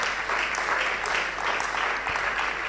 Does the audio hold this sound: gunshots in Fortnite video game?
no